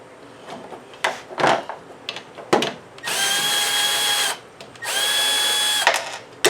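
A Milwaukee power drill bores through metal in a barn shed while bolting up solar panels, giving two sustained whining bursts of about a second and a half each, near and loud, after scattered clicks and handling knocks.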